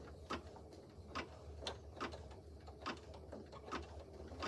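An embroidery machine stitches a notebook cover in the hoop with a steady, rhythmic mechanical clatter. It repeats evenly about once a second and stays fairly quiet and continuous throughout.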